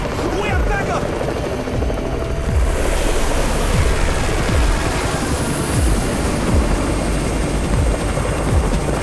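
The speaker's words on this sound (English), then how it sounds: "It's the Raven's chopper! We have backup!" A helicopter's rotor thumps loudly and steadily with a rushing, windy roar in the game Undawn, filling the whole stretch without a break.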